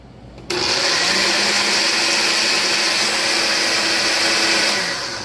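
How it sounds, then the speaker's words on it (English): A blender making a Caribbean island smoothie on its smoothie setting roars to life after a brief quiet moment, running steadily and loudly at full power with a dense whirring drone until it winds down at the end. "Now just put the cap on your blender and just hit smoothie."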